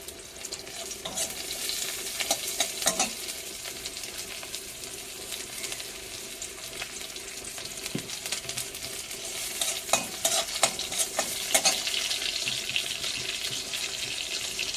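Chopped onion fries in hot oil in a pan, hissing and sizzling steadily with scraping stirs and occasional clinks, loud and close with no voices.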